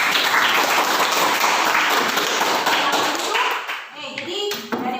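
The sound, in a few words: classroom applause for students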